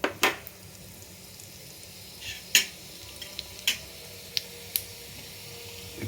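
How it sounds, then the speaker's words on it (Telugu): Peppercorns with cumin seeds added, frying in a pan for a vegetable kitchen dish, a low, soft sizzle broken by a few sharp clicks and pops of spoon against pan, close and without speech. "మిరియాలు, ఇలా మిరియాలు అవుతుండగానే మరి జీలకర్ర వేసుకోవాలి."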